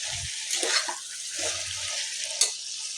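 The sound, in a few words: spinach (palak) paste frying in a pan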